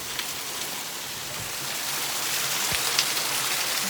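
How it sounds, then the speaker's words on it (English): Heavy rain from a passing hurricane pours in Jamaica as a loud, dense, continuous roar of drops with no speech. "There's a hurricane passing by"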